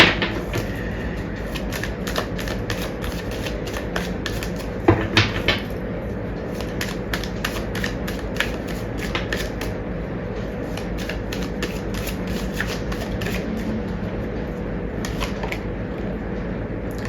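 Tarot cards being shuffled and drawn, a steady run of close, crisp flicks and riffles lasting throughout, with no talk.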